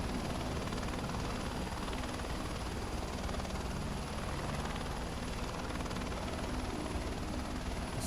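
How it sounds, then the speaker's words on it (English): Helicopter in Microsoft Flight Simulator, played on a Steam Deck, with a steady rotor and engine drone that runs loud and unbroken throughout. "a few helicopters around here"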